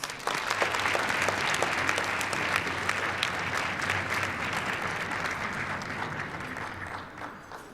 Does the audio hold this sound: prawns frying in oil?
no